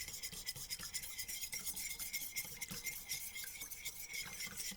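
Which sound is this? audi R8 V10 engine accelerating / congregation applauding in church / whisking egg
whisking egg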